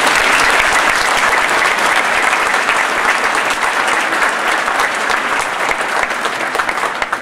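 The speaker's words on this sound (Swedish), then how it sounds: "En till applåd tycker" Loud, sustained applause from a large crowd at a Swedish bachelor's degree ceremony, dense and steady throughout, easing slightly toward the end.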